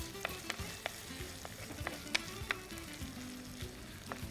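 Fennel seeds, curry leaves and onions sizzle in hot oil, a steady close frying crackle broken by scattered sharp pops and the occasional clink of a stirring spoon against the pan, with no voices.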